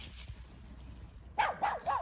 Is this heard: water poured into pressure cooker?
no